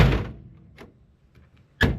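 A classic car door is pushed open against a stiff new rubber seal. A muffled thump is followed by a faint click, then a sharp loud clunk near the end.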